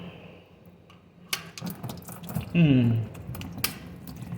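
A brief gush of water drained from an Allis Chalmers WD tractor splashes and pours into a pan, with clanks and rustling around it, short and close.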